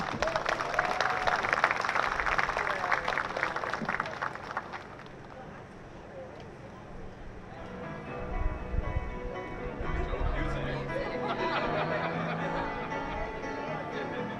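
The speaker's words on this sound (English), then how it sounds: "Big round of applause." Audience at a STEM program claps for several seconds, a moderate patter that fades out, followed by murmuring and people talking in the room.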